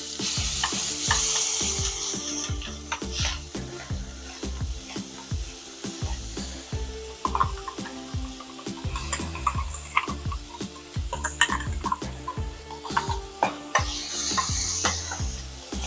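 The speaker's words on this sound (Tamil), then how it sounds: "எல்லாத்தையும் சேர்த்துட்டு நல்லா வதக்கிடுங்க." Steady sizzling and frying of ground paste and vegetables in a pan, with rhythmic stirring and scraping clicks running throughout; no voices.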